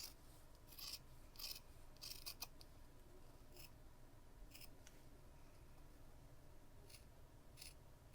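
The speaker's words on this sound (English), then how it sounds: "And I'm going to cut on the line and use my seam ripper to get that opening started." Scissors cut fabric along a drawn line, several crisp snips in a brief cluster near the start and a few more spaced out later, faint and close over a soft steady background hiss.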